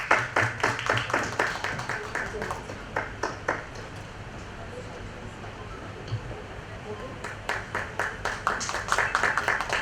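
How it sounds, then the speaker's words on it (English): Applause from a conference audience greets a presenter, a dense burst of clapping that thins and fades in the middle before swelling again near the end, with a low hum of room noise beneath. "A big round of applause for Meenakshi."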